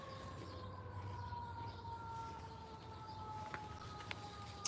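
A fire truck siren wails faintly in the distance near a hospital, a thin steady tone drifting slightly in pitch with no talking.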